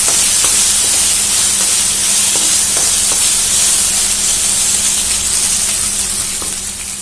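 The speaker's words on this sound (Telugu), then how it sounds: "పచ్చిమిర్చి అంటే పైన మంచి కలర్ రావాలి, అంతవరకు వేయించుకోవాలి." Green chillies frying with salt in a pan produce a loud, continuous hiss close by, with scattered soft pops and clicks, easing slightly toward the end; nobody speaks.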